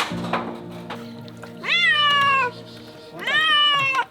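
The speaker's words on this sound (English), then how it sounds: "We saved this little cat from a roof." A small, hungry cat rescued from a rooftop in hurricane-hit Honduras gives two long, clear meows a second or so apart, close and loud against a quiet background.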